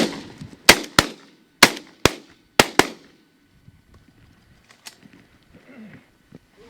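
Shotgun blasts during a duck hunt: six sharp, loud reports in three quick pairs over about two seconds, echoing briefly, followed by quiet outdoor ambience with faint distant sounds.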